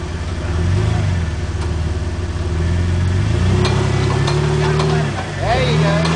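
A Jeep TJ rock crawler's engine idles and revs as it drives out over rough ground, a loud close rumble that rises and falls in pitch, with people talking over it.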